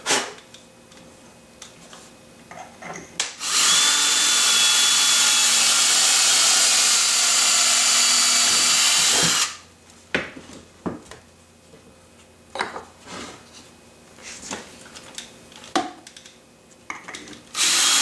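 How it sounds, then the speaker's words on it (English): A power drill whines loudly for several seconds as it bores axle holes through tough wheel material, followed by scattered clicks, knocks and handling noises. "Tell the material is pretty tough to drill. We have to do that to all the wheels,"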